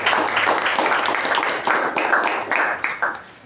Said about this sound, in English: let's give a round of applause to our table topic master